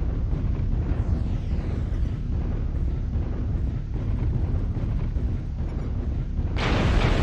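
Airstrike blasts in an online shooter game rumble as a dense, continuous low roar with no clear separate hits, ending in a brighter surge of noise.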